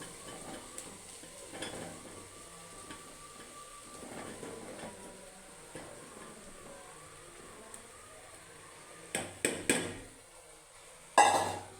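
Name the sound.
fish maw added to pan, stirring and sizzling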